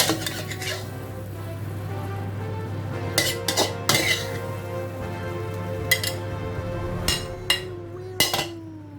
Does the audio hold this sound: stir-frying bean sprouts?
yes